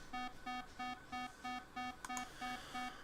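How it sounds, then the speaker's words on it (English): A buzzer alarm from a programmable speaker in the video game Factorio pulses in quick, regular low buzzing beeps, about ten across the stretch, steady and moderately quiet with no talking. "Then we got buzzers."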